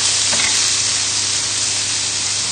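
Chicken livers sizzle loudly in a heavy-bottomed frying pan, a dense steady frying hiss with a brief scrape as they are moved around, close and without speech.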